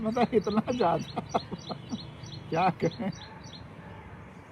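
A small bird sings continuously outdoors, its high, quick chirps repeating in a steady rhythm from start to finish while a person speaks over it in the foreground.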